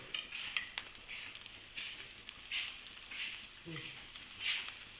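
Pan-fried eggs cook in a small hot skillet with salt and sliced hot dog: a steady sizzle of frying runs throughout, broken by scraping and tapping of a utensil stirring against the pan.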